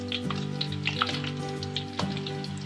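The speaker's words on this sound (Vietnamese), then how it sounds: "Mình chiên cái này nè, mình cũng để lửa vừa vừa thôi, cũng không lớn quá mà cũng không nhỏ quá nha." Sweet potato pieces fry in oil over medium heat, a steady close crackle and sizzle with sharper pops scattered throughout and no voices.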